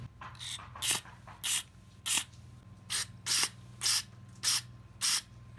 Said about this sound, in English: spraying some carburetor cleaner down into here, looking through the front